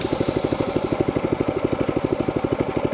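A small mini bike engine idles up close, putting out a steady, rapid, even chugging pulse with no voices over it.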